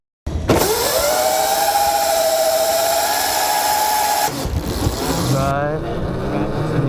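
An Ohvale GP 0 motorcycle converted to electric with a DropIN 72 kit sets off on a test ride: a high motor whine rises and holds steady, then gives way to rougher, fluttering road and wind noise.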